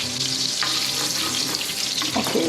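Melted butter with dried mint sizzles and crackles in a pan, a steady close frying hiss with no talking.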